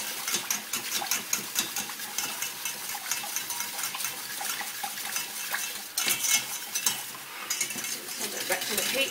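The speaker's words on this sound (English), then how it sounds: "So you've got to whisk it really quickly to get the lumps out." Quick, steady whisking of a lumpy mixture in a pan, a busy scraping and clinking of metal against the pan with a faint sizzle from the heat underneath, close and continuous.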